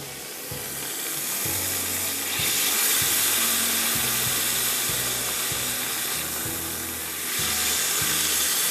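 A loud, steady sizzle and hiss of steam rises from a hot pan as water hits frying red onions, swelling in waves with faint stirring clatter beneath.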